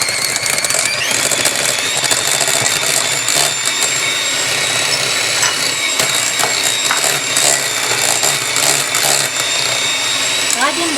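Electric mixer beating cheese in a bowl for lemon cheesecake, a loud continuous whirring drone that holds steady throughout with slight changes in pitch.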